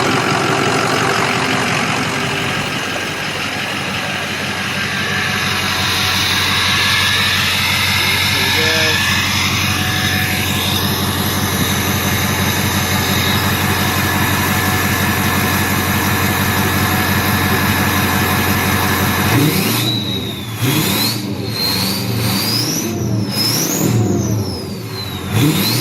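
6.0L Powerstroke diesel truck engine fitted with a KC 10-blade Stage 1 turbo, a loud, steady, close rumble with broadband roar, then rising turbo whistles and revving toward the end, voices faintly under it.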